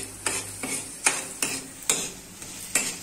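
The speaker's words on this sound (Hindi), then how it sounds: "इस मटर को थोड़ा फ्राई करते हैं" Peas being fried in a kadhai, heard as a soft sizzle broken by about seven sharp, evenly spaced stirring clacks of a spoon against the pan, close and alone.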